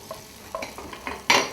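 Onions frying in butter in a pan, a soft sizzle punctuated by several short stirring scrapes and a sharper, louder scrape at the end.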